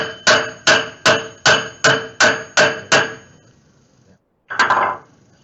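Eight sharp, evenly spaced wooden knocks from hammering with a broken baseball bat in a steady rhythm, a brief pause, then one softer blow; loud and close with no talking.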